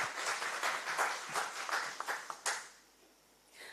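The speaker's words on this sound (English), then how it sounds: "All right, a round of applause as she comes through." A conference audience at a women in financial markets event claps as a guest walks up, brisk scattered applause that thins out and fades to near quiet by the end.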